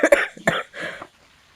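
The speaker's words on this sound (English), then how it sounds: "who would be coughing in the microphone if it's not your master right now?" A few sharp, close coughs into a microphone, two quick bursts then a third, followed by a softer throat-clearing rasp before quiet.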